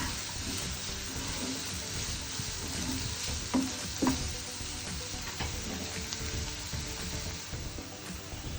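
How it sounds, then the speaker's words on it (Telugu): Onions with curry leaves sizzle and crackle in a pan while being stirred for Rayalaseema-style egg garlic kaaram, a steady close frying hiss with a few scraping spoon knocks and no talk. "ఇందులో కరివేపాకు కూడా వేసుకొని మొత్తం గిరగిరా తిప్పేసేయండి."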